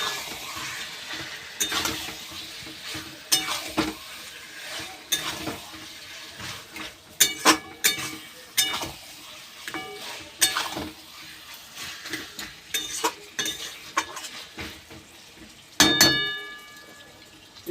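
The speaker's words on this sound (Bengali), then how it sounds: "দিয়ে ভালো করে চিকেনটা কষিয়ে নেব।" Chicken for a Hyderabadi chicken kosha sizzles and fries in a pan while a spatula repeatedly scrapes and clanks against the metal, giving irregular stirring knocks over a steady crackle.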